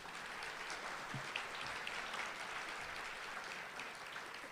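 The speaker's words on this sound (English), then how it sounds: "Can we get another round of applause for April, please?" Audience applause at a corporate summit on women's leadership, with a steady, dense wash of clapping that holds evenly for several seconds without talk over it.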